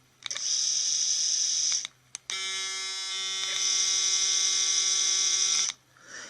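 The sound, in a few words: Braun Series 7 790cc electric shaver running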